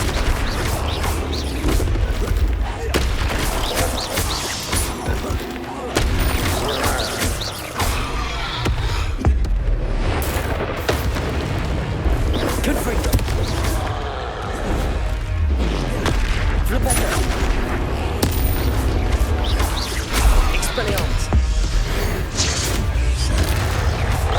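Spell explosions in Hogwarts Legacy burst in heavy booms and crashes amid constant game action, loud and repeated over a thick rumbling background.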